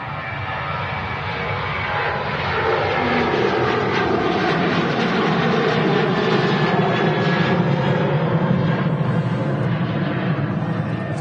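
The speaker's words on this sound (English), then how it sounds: "There we can see the Kuwait 330 on the taxi out." A Kuwait Airways Airbus A330 taxis out at Manchester Airport, its jet engines giving a continuous broad rumble and whine that swells slightly as it passes, heard from some distance with no speech.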